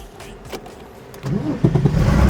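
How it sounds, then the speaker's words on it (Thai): Porsche 993 RWB engine starting quietly, then swelling into a louder, rough rumble with a few short revving blips toward the end, close by. "ฟังเสียงนะฟังเสียงเครื่องนะ"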